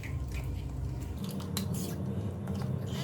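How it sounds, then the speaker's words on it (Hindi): A spoon stirs the sauce for a red kidney bean salad in a bowl, giving close, soft clinks and wet scraping sounds, with faint talking in the background. "इसी को ही बस थोड़ा मिक्स कर लें अच्छे से"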